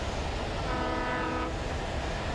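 Train in the video game Alan Wake Remastered: a steady, loud rumble of rolling rail noise fills the whole stretch, with a sustained horn-like tone rising over it in the middle, no talk.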